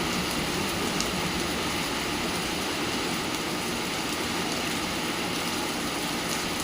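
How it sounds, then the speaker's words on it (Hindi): Heavy rain pours nonstop, a dense, loud, unbroken wash of noise with no voices. "एंड इट्स रेनिंग, बहुत तेज़ बारिश हो रही है"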